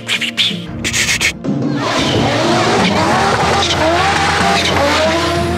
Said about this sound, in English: This five-cylinder sound is something very, very special.